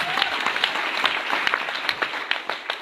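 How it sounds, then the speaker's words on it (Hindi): Steady applause from a crowd at a DXN company meeting, dense and continuous, with a few sharper individual claps standing out. "जोरदार तालियां इनकी"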